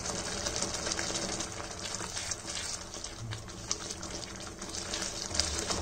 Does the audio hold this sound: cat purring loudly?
no